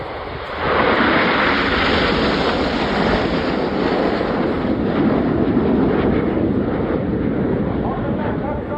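A Concorde jet passing at an airshow in Gloucestershire with its smoke on, giving a loud, steady roar that fills the whole stretch, and wind buffets the microphone.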